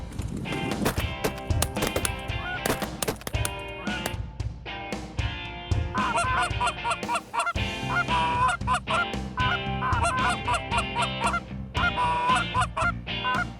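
A flock of wild geese honks loudly and continuously, many overlapping calls from nearby as they come into a decoy spread during a Wisconsin goose hunt, with a few sharp knocks and thuds underneath.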